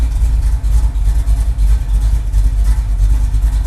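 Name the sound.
carbureted motor running while being broken in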